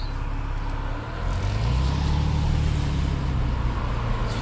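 A Porsche 911 996.2 Tiptronic with a Dansk aftermarket exhaust rumbles low and steady, swelling into a deeper, louder exhaust growl midway as it pulls away.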